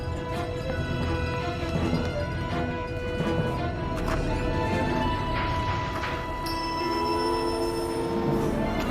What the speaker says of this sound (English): train's going without it